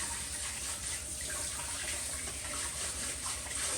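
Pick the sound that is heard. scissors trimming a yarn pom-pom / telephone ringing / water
water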